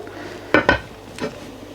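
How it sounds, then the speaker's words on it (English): A metal lid is set onto a cooking pot of spring greens and tomatoes, two quick close clanks followed a moment later by a softer third knock. "Just flatten it out and then pop the lid on"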